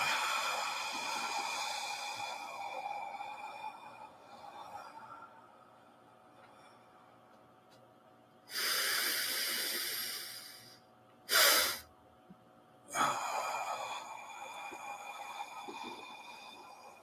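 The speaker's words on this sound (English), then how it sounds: "Long, slow exhale." A long, slow exhale during a guided breathing exercise, heard as broad airy rushes of breath that swell and fade, with a few sharp breath bursts near the end against a quiet background.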